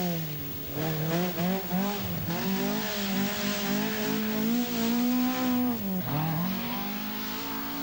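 Rally cars race on a stage of the 1984 RAC Rally, among them McRae's Opel, engines revving and climbing through gears loudly and close, with a brief drop in pitch as one car lifts off.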